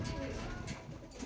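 Young racing pigeons let out outdoors on a sunny day coo softly in a low, fluttering murmur, with someone talking over them.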